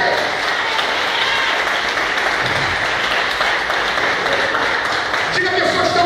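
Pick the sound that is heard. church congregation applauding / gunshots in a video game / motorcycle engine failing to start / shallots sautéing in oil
church congregation applauding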